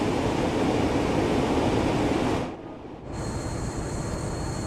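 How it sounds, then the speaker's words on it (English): A passing train in Train Sim World 6 on the Medway Valley line roars loudly as a steady broadband rush, then cuts off abruptly into quieter cab hum. "Got hit by a passing train then."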